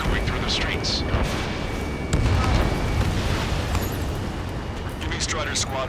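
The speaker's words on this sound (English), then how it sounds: "Gunfire and the roar of jets echoing through the streets." Ace Combat 7 game combat in a city under martial law: dense, continuous rumbling roar of jets with booming explosions and gunfire bursts, loud and busy, while voices talk over the noise.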